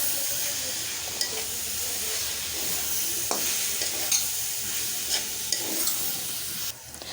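A filling mixed with tomato sauce is stirred in a pan, scraping and clinking softly over a steady sizzling hiss, with a few sharper knocks of the spoon against the pan.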